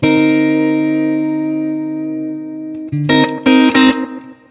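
An electric guitar plays a chord with a flat 9 and a high 13 through effects, one sustained distorted chord slowly decaying, then a few sharp strummed re-attacks near the end, loud and alone.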